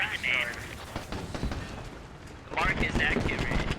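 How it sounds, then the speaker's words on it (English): In a military video game, an MT-LB armored vehicle struck by an anti-tank round and C4 explodes, heavy blasts bursting at the start and again near the end amid crackling gunfire, with someone talking over the chaos. "MTLB pops, a couple PMCs go down in the explosion"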